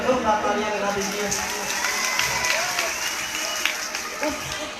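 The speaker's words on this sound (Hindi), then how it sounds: "उस मेरे छोटे भाई के जरा जोरदार तालियां लगा दीजिए" Audience at a Ganesh Utsav music show applauding for the singer's younger brother, a steady wash of clapping from a crowd that carries on without pause.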